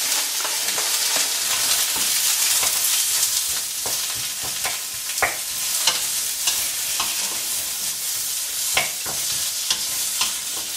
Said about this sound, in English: what I'm going to do is add the zucchini first into the wok